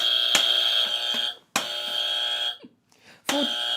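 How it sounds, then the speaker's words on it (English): Three loud electronic quiz buzzer blasts, each a harsh sustained tone lasting about a second, separated by brief pauses with faint rustling. "We bought some buzzers."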